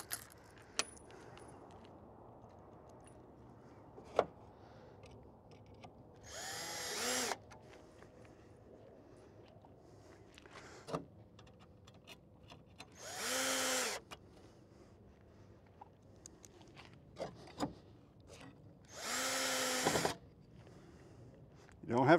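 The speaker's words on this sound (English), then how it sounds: "We're going to put a couple of screws in these." A power drill drives screws into wood for a J-klipz setup, three separate whirring bursts of a couple of seconds each, with clinks, taps and faint rustling in the quieter stretches between.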